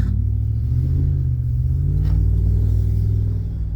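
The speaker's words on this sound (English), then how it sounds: "I really do miss the sound of this truck." A pickup truck's engine runs steadily while driving, with a loud, deep, continuous low rumble close by and no talking over it.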